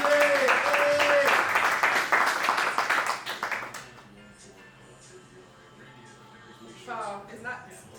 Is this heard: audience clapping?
yes